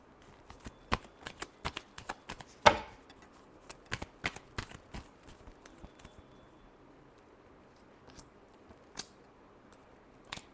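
Tarot cards being shuffled by hand, a quiet run of soft irregular riffles and taps with one sharper snap, close and gentle, with no talking over it.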